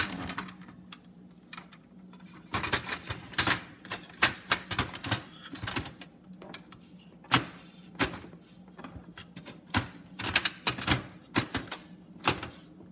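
A toner cartridge is pushed into a Brother HL-L2320D monochrome laser printer, giving a series of close, sharp plastic clicks and clunks in irregular bursts over a faint steady hum.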